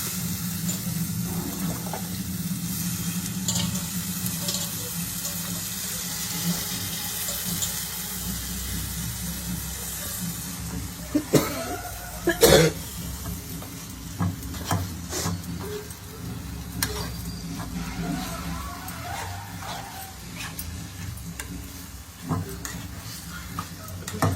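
Spinach with dried red chillies fries in oil in a home kitchen pan, giving a steady low sizzle with occasional stirring scrapes and clatters, no talk.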